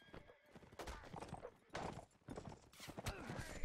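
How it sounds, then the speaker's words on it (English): Rapid hoofbeats of a video-game horse clatter in a steady galloping rhythm, with scattered impacts and game-like effects around them. "Black Tide's horse probably has nothing left."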